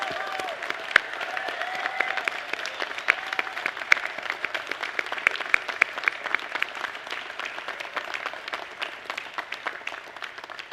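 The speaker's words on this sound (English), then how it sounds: "Please now give our new graduates a huge round of applause" At a Charles Sturt University graduation ceremony, the audience claps for the new graduates in sustained, dense applause that holds steady throughout, with a faint crowd murmur underneath.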